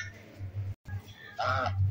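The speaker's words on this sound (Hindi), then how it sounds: "भाई आपकी बतखें क्या कह रही हैं?" Pet ducks give a few short nasal quacks, close and fairly loud, the strongest call near the end, with brief handling noise in between.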